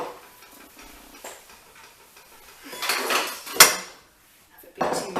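Tuna pasta is mixed in a metal pot, a spoon clinking and scraping against the sides in a few irregular strokes, close by and moderately loud, with quiet pauses in between.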